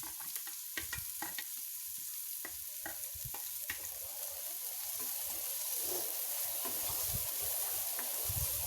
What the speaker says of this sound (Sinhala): දැන් මම තෙල් ටිකක් දාලා හීනියට කපාගත්ත බීලුණු ගෙඩියක් එකතු කරනවා.